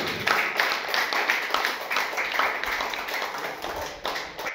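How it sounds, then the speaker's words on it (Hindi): A church congregation claps during a Sunday service, a dense stretch of handclaps with an uneven rhythm, fairly close and loud, lasting several seconds with a slight dip near the end. "आपका उत्तम ताली परमेश्वर यीशु मसीह के लिए बजाएंगे।"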